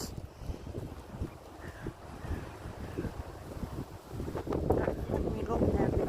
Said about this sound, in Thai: มีลมแห้งพี่น้องลมแห้ง